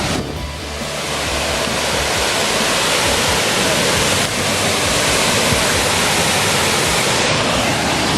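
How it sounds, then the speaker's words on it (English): A waterfall pours in a steady, dense broadband roar, loud and close throughout with no pauses, its rushing wash filling the whole stretch. "So, another waterfall."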